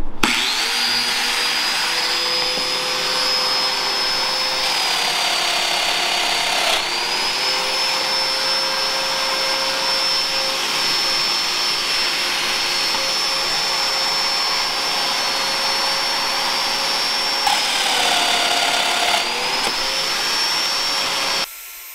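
A domino joiner cuts mortises into wood boards, a loud continuous high-pitched whine with a rushing dust-extraction roar that dips slightly in pitch as the cutter plunges in, running steadily for over twenty seconds.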